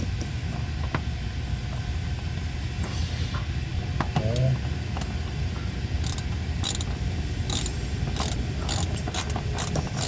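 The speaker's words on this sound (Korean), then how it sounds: "지금 너트를 지지대 쪽 너트를 지금 조이고 있는 중입니다" Ratchet tightening a nut on a fuel filter bracket of a Chairman W124: repeated clicking ratchet strokes in irregular bursts over a loud steady mechanical hum, close by.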